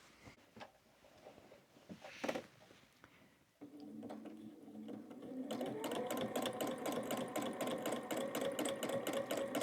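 A sewing machine doing free-motion thread painting starts with a few scattered stitches, then settles into a fast, steady mechanical whir and rapid clatter, close and alone without talk.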